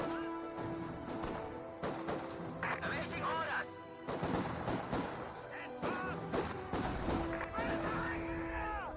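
Rapid bursts of gunfire and impacts from a Company of Heroes 2 battle between Royal Engineers and Grenadiers, dense and overlapping, with a commentator talking over the combat throughout.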